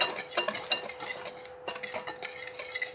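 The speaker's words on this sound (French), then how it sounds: "on mélange nos éléments secs" Dry ingredients for Breton farz pitilig stirred together in a bowl, a close run of soft scraping strokes with a few light clinks of a utensil against the side, no voices.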